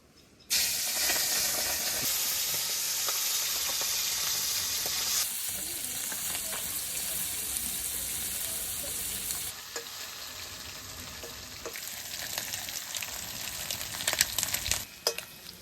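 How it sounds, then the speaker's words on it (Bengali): Prawns frying in smoking hot oil in a wok, a loud continuous close sizzle and hiss that shifts in intensity as pieces are moved, with a few clatters near the end and no talking. "আমি মাছটা এবার তাড়াতাড়ি ভেজে নিই।"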